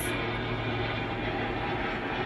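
Inside an airplane on a long flight, a steady, loud broadband engine roar drones continuously without breaks, with no one talking.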